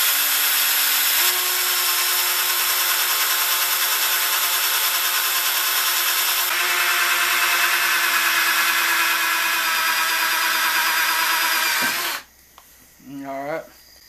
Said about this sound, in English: I've got me this is a countersink / pilot hole drill bit here